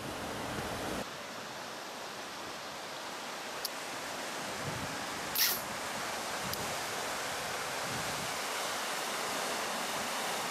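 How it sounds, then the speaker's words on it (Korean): Jiktang Falls in winter pours in a constant broad rush, with a couple of brief clicks and a short bump partway through. "겨울에 직당 폭포입니다."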